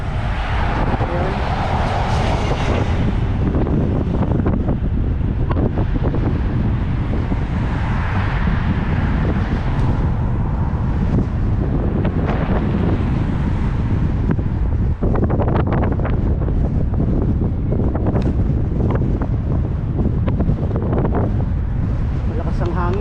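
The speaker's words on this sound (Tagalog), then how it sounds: "Malakas ang hangin." Strong wind buffeting a microphone during a solo trail ride, a constant loud low roar with gusty rumbling throughout, with brief voice-like sounds faintly underneath.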